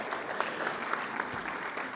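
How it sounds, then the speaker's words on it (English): An audience at a formal conference session applauds, a steady, even wash of many hands clapping heard at moderate distance, with no talking over it. "Oui, on peut l'applaudir."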